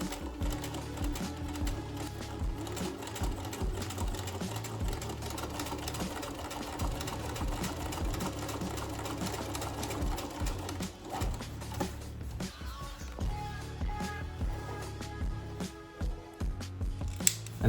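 A sewing machine top stitches down a pressed seam on a pair of shorts, running in long continuous bursts with a busy mechanical whir, pausing briefly before restarting for shorter runs.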